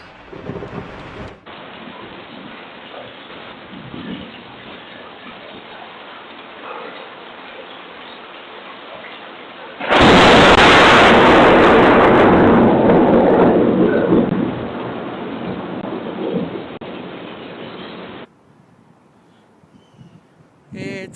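A thunderstorm with steady rain and insects or crickets in the background, then a sudden loud, close thunderclap right after a lightning strike. The crash rumbles and fades over several seconds as the rain continues, with faint voices nearby.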